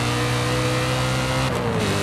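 A 2008 BMW M3 E92 in Forza Horizon 5 drones steadily with a low, loud engine note, its pitch shifting slightly near the end as revs change; no voices.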